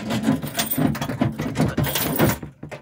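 A door is rattled hard during a fire alarm system test, giving repeated clattering knocks and metallic jiggling for about three seconds, fairly loud and close.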